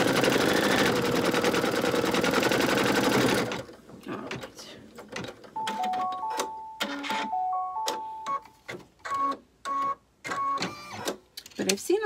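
A Sweet Pea Honeybee embroidery machine stitching yellow thread down onto vinyl for a coaster, starting with steady loud mechanical whirring, then breaking into choppy bursts of ratcheting needle stitching with short pauses between runs.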